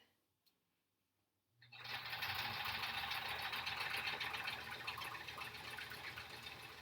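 A sewing machine stitching a quilt-as-you-go quilt block starts after a short near-silence, then runs at a slow, steady pace with a continuous mechanical whir, close and clear.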